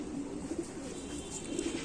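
Low, rolling coos from a small fancy pigeon pulse steadily and close against a constant background hiss.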